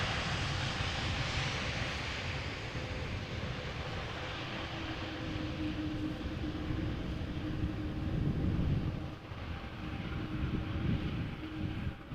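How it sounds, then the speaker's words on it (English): Boeing 787 Dreamliner landing in windy conditions at Amsterdam Schiphol after a flight from Montreal: a continuous broad jet-engine roar with wind buffeting the microphone, steady and fairly loud throughout, no speech. "Dreamliner, 6 hours 17 minutes of flying. Little wheelie."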